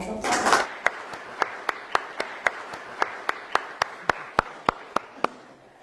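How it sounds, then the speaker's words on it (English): An audience claps in a burst of applause welcoming the hosts of a presentation, a loud dense patter in the first moment that quickly thins into a slow, steady run of single claps, evenly spaced, over a quiet room. "Please give them a round of applause."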